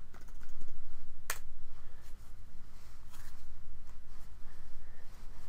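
Fingers type on a computer keyboard at a server login prompt, a fast close-up run of clicking keystrokes over a low steady hum, with one sharper key strike and no speech.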